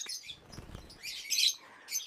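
Lovebirds in an aviary give faint, high, thin chirps in a few brief clusters, with soft rustling beneath and no voices.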